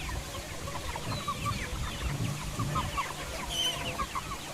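A flock of mostly young village chickens clucks and chirps in a netted backyard enclosure. The calls come continuously and close by, with scattered higher peeps among them.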